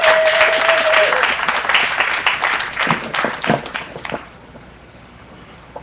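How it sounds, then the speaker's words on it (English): Audience applause at a Cowboy-Indian Alliance gathering, a dense crowd clapping loudly for about four seconds before tapering off into quiet room tone. "So I'll ask for your applause for JB here."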